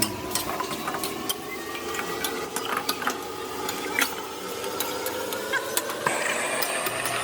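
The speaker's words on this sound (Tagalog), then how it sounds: "paglagay natin ng liver, halo lang natin bahagya" Liver and vegetables being stirred in a cooking pan, a steady sizzle under repeated scraping and clinking of a utensil against the pan, with no talking.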